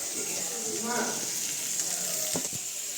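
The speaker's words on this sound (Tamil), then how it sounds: "இப்போ பீன்ஸ் போட்டுக்கலாம். இப்போ கிண்டிக்கலாம்." Green beans sizzle in a hot pan while tomato and onion are stirred for a vegetable noodle stir-fry. A steady, close frying hiss carries a few scraping stir sounds.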